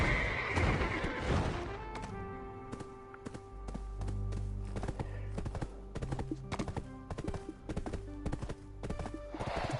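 A horse in a video game neighs loudly at the start, then hooves clip-clop steadily and rhythmically for the rest of the stretch, with another whinny near the end.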